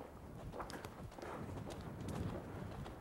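Horse hooves clip-clop steadily during an advanced jumping exercise, a rhythmic but faint thudding under a constant wash of background noise.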